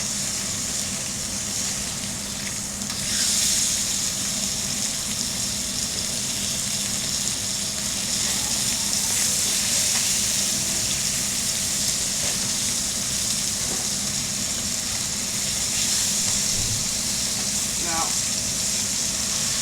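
Trout sears skin-side down in a hot pan, giving a steady, loud, hissing sizzle that runs unbroken like heavy rain, with a person talking over it now and then.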